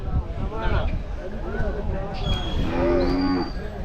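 A Hallikar cow moos nearby at a cattle fair, a couple of drawn-out calls, while people talk in the background.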